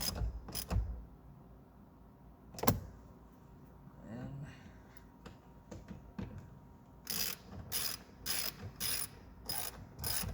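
A ratchet clicks in a quick run of sharp bursts while the mirror bolts on a 2008 Dodge Caliber are snugged down during a mirror replacement, preceded by scattered knocks and light handling noise.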